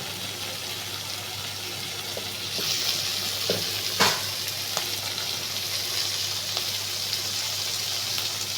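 Chopped tomato and other ingredients for egg chilli fry in a pan, a steady hiss growing louder partway through, with occasional scrapes and taps of a stirring spoon, and no talking.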